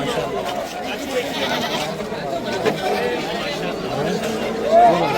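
Goats, including Barbari goats, bleat here and there amid a busy crowd of chattering voices at the Deonar goat market in Mumbai, with one higher bleat standing out near the end.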